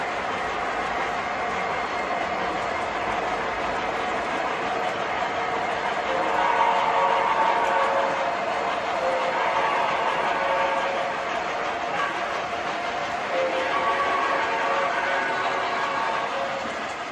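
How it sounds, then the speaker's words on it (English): Model train sets pulled by Hudson locomotives run with brand-new passenger cars, giving a steady rolling hum and faint rhythmic clatter that swells slightly midway, with no talking. "These passenger cars have never been run, except for now."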